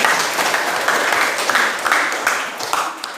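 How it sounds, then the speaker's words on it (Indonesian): A classroom group applauds with steady, fairly loud clapping that carries on throughout the clip. "Ya, aplaus."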